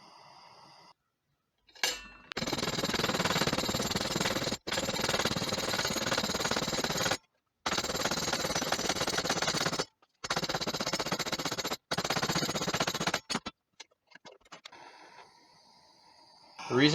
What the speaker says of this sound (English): If I want these tight corners, I need to hit it with a hammer.